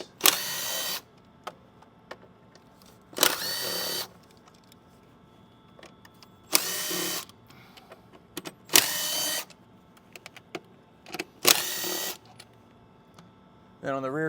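Five separate bursts of a power tool or ratchet whirring as 8 millimeter bolts come off the front cover of an L Cummins engine, each lasting about a second, with quiet gaps in between.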